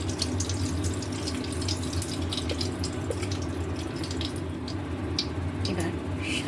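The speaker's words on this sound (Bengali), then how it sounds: "এবারে এর মধ্যেই আমি একটু ঘি অ্যাড করে দেবো।" Ghee hits hot oil in a pan for a chicken egg tadka, giving a close, even sizzle with fine crackles that holds steady throughout.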